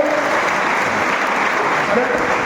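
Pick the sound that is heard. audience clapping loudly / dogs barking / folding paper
audience clapping loudly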